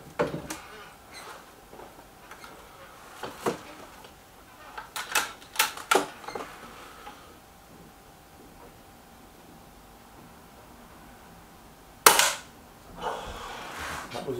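Air rifle shots from a Weihrauch HW110 and a Gamo Boxer, a series of sharp, close cracks spaced unevenly, with one especially loud shot later on and quieter stretches between.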